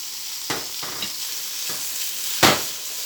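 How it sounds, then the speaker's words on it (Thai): Pork belly is stir-fried in homemade curry paste for a young jackfruit curry, giving a steady sizzle of oil in the pan. A few sharper scrapes and clatters of the spatula break through it, and there is no talking. "คุณย่าก็จะใส่หมูสามชั้นลงไปผัดด้วยค่ะ"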